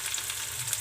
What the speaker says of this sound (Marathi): आणि कांद्याच्या पातीचा कांदा टाकूया आता.